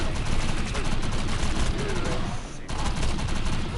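Dense, continuous gunfire from a shotgun in the video game Defiance 2025, rapid overlapping blasts filling the whole stretch with only a brief dip, loud and close throughout.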